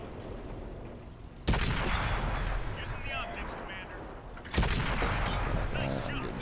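Tank cannons fire in a World of Tanks console battle: two loud, sharp blasts a few seconds apart, each followed by a rumbling roar that fades slowly beneath the game's ambient noise.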